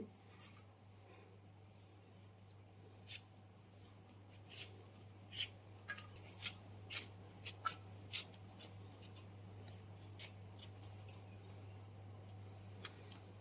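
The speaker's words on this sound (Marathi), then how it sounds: "आता ह्यांना मी सोलून घेते, साल काढून घेते." Raw green mangoes are peeled by hand, giving faint, close scraping strokes that come in an uneven run of short rasps over a quiet, steady background hum.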